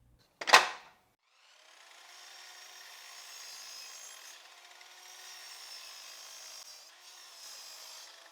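A power saw trimming the side of a live edge wood slab: a sharp knock at the start, then a steady whirring cut that runs on at moderate volume, with no talk.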